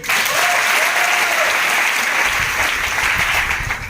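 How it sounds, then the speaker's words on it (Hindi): A crowd claps loudly and continuously at a sales seminar in a hall, thick steady applause throughout with faint background voices underneath. "ठोको ताली इसके लिए।"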